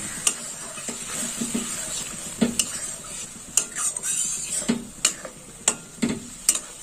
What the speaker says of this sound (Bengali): দিয়ে দিলাম গোলা মশলা। এই গোলা মশলাটাও একটু কষা হবে।